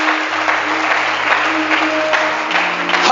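A church congregation claps in sustained, loud applause, with steady instrumental tones ringing underneath.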